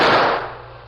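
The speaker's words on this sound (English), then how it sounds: "Then the masked man's guns went into action." Gunfire effect in an old-time Western radio drama, a masked man firing his guns: a loud, dense burst of shots that fades over about a second, with no voices.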